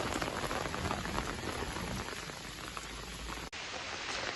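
Steady heavy rain pours down, a dense hiss of drops hitting a surface, constant and close throughout.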